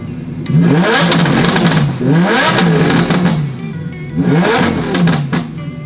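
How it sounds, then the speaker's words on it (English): A straight-piped Lamborghini Aventador V12 revs hard in a rev battle, with three loud, rising bursts of engine roar, each climbing and falling back, close by and unaccompanied by talk. "These guys want to have a rev battle."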